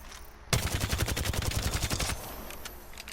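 Rapid automatic gunfire from a rifle without a stabilizer in the shooter game Apex Legends, a loud burst of about twenty fast evenly spaced shots lasting over a second and a half, followed by a few scattered clicks and faint echoes.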